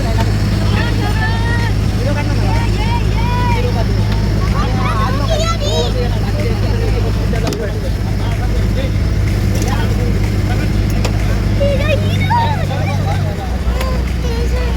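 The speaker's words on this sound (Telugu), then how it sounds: "షిప్లోకి ఈ మోటార్ బోట్లోకి ట్రాన్స్ఫర్ అయ్యాము." A motor boat at sea on a water-sports outing at Devbagh, Malvan, its engine giving a steady low drone throughout while several people talk and chatter over it.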